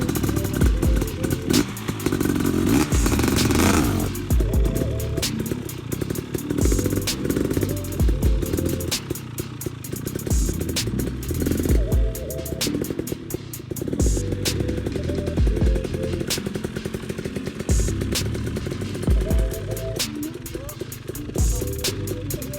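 A motorcycle is ridden during wheelie practice, its engine revving up and falling back in repeated close, loud surges with mechanical clatter throughout.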